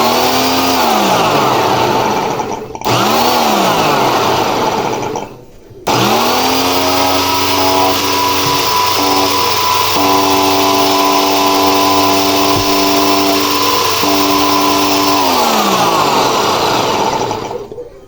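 A portable pressure washer motor runs steadily after its motor assembly is reinstalled, a loud continuous whine with stable harmonics, briefly cutting out twice near the start before settling into a long, even drone.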